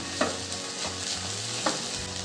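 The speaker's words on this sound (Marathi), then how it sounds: "साबुदाणा आपण छान परतून घेऊ." Sabudana with jaggery and crushed peanuts sautéed uncovered in a pan for a sweet fasting khichdi: a steady close sizzle with scraping stir strokes, two sharper scrapes standing out, no voice.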